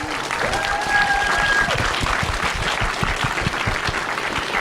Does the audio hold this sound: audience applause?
yes